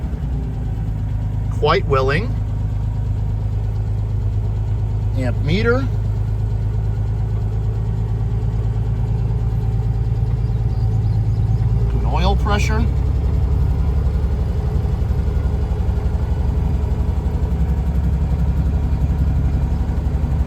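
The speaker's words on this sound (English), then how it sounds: "she's got herself a cold idle going. So we'll go ahead and bring those revs up a little bit." A 1958 Jaguar XK 150 engine idling after a cold start, a loud steady low rumble that rises slightly as revs come up, with someone speaking briefly over it.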